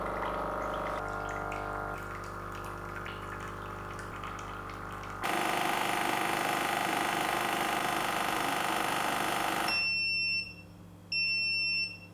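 A Tommee Tippee Perfect Prep formula machine runs its cleaning cycle with a steady loud whir and rushing water, growing noisier, then stops and gives two high electronic beeps.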